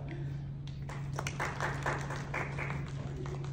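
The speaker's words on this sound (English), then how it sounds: "golf clap" Soft, sparse polite clapping from a conference audience, a light golf clap of scattered quiet claps over a steady low hum, with some voices in the room.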